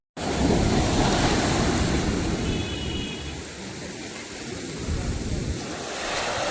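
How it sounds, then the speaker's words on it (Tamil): Big sea waves roll onto a beach at new moon, a loud, continuous roar of surf with wind rumbling through it and no voices. "பெரிய பெரிய அலையாக வந்து அந்த அலை எப்படி வந்துச்சு"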